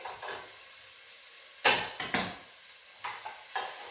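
Four crushed garlic cloves and diced chili fry in a pan, giving a soft sizzle broken by several sharp bursts of a utensil stirring and scraping against the metal. No one speaks.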